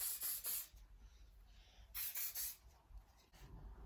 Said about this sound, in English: I'm going to take my VO5 Invisible Ultimate Hold hairspray.